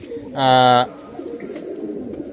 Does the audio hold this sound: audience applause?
no